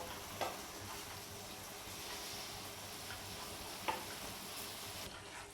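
Egg masala is stirred slowly in a pan, giving a faint, steady low sizzle with a couple of soft spoon taps against the pan.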